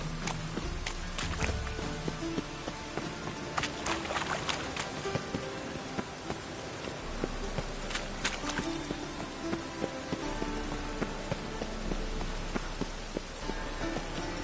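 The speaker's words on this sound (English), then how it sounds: "The rain will cleanse the city." Rain falls over a city in The Witcher 3, a dense steady patter and hiss with scattered sharper drips and taps throughout, fairly quiet and with no talking.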